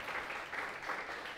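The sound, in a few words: congregation applauding in church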